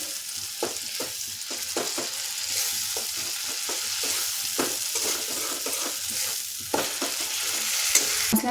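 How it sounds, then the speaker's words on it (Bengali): Masala for a moong sprout tadka is sautéed and stirred in a pan, with a steady frying sizzle and regular scraping strokes of a spoon, close and clear, with no talking. "মশলাটা খুব ভালোভাবে কষিয়ে নিলাম"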